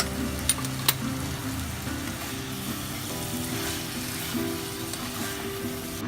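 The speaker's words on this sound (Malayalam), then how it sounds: "പക്ഷേ ഇതിപ്പോൾ നമ്മൾ കുറച്ച് ഡീപ്പ് ഫ്രൈ ആക്കാൻ പോകണം" Soya chunks deep fry in hot oil with a constant, close sizzle and bubbling, broken by a couple of sharp utensil clicks near the start.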